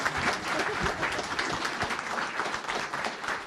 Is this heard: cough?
no